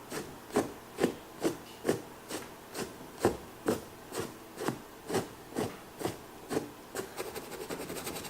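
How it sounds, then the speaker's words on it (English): A paintbrush scrubs paint across a painting in about fifteen even back-and-forth strokes, each a soft, close, dry rasp, quickening into shorter strokes near the end. "I'm going to do a little bit of scrubbing up into here to just blend the white in."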